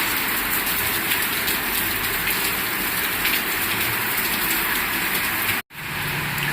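Heavy monsoon downpour over a rooftop garden, a dense, loud, steady roar of rain hitting surfaces without letup, briefly cut off near the end.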